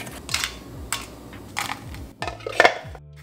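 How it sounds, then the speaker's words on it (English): Freeze-dried strawberry slices are crushed into powder, giving a few separate bursts of dry, crunchy grinding with short pauses between them. "you can grind the slices like this"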